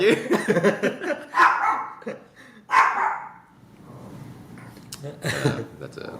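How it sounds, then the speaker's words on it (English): A pet dog barks several times nearby in a home setting, sharp bursts mixed with whimpers, overlapping people talking in the background. "That's my dog."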